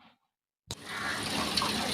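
A freshwater spring near the sea on the Konkan coast at Ganpatipule sets up a steady, rushing flow of water. It starts abruptly after near-silence and carries on close and even.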